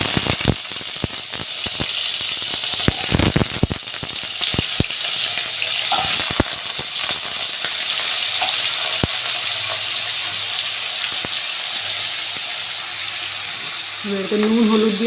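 Potatoes dropped into hot oil for a banana-flower curry: a burst of clattering and crackling gives way to a steady, close sizzle that carries on evenly, with occasional clicks of a spatula.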